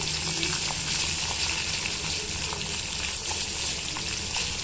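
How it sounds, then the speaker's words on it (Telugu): Okra pieces frying in a pan until the sliminess cooks off, a steady dense sizzle with faint stirring scrapes, continuous and close. "ఇలా జిగురు పోయేంత వరకు వేయించుకోండి"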